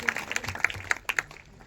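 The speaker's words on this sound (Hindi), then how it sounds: "जोरदार तालियों से प्रभु की महिमा करेंगे" A church congregation claps in praise of God after a healing testimony, with a handful of sparse, separate claps, fairly faint and irregular, fading out near the end.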